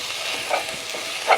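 Food with bouillon being stirred in a pot: a soft sizzling hiss runs throughout, with a couple of brief scraping, clinking stir sounds, one near the middle and a louder one at the end.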